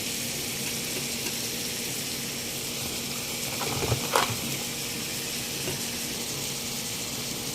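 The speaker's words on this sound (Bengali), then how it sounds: "আমি করলা ভাজিতে একটু আলু কুচিও দিব, তাই এখন আলু কুচিটি দিয়ে দেব" Chopped potato going into a pan of frying bitter gourd with shrimp brings a steady hiss of sizzling oil, with a short clattering burst near the middle as the pieces drop in.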